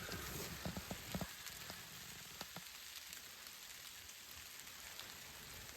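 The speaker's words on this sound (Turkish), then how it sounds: "Sesi duyabiliyorsanız gerçekten aşırı yağmur yağmaya başladı." Heavy rain falls in a remote forest while someone shelters under a shack, a dense steady patter with scattered close drips and taps, moderately faint and without talk.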